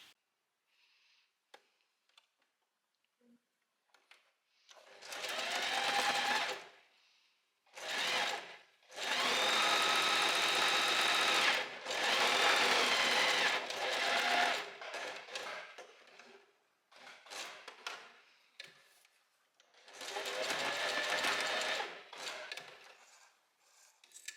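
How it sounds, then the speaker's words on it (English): A sewing machine stitches folded fabric straps with a one-centimetre seam allowance. Several close, whirring runs of stitching play, the longest lasting a few seconds, separated by quiet gaps with no speech. "I'm gonna sew with a 1 centimeter seam allowance away from the folded edge"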